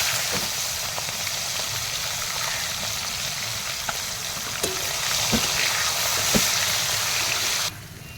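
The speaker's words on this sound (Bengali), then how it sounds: "পেঁয়াজটা লাল লাল করে ভাজা হয়ে গেছে" Onions sizzle in hot oil with dried red chillies for a Bengali river fish curry, a steady close crackling fry broken by a few sharp ticks and spatters before it suddenly drops away.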